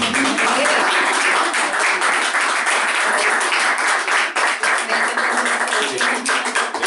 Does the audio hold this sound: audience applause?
yes